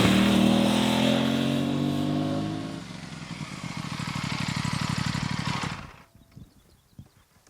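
An Aprilia RS 457 sport bike passes on a circuit, its engine loud and droning before dropping to a pulsing, throbbing note as it moves away, then near silence with a few faint knocks.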